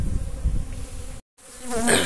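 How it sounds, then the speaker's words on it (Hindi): Honey bees fly around beekeeping boxes beside mustard flowers, a dense steady buzzing swarm up close that cuts out briefly, then returns louder. "यहाँ मधुमक्खियाँ आप देख सकते हैं ढेर सारी उड़ रही हैं"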